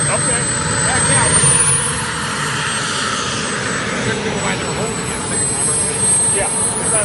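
A model jet aircraft's turbine whines loudly and steadily while taxiing at a model jet event, a high sustained tone with a few faint voices underneath.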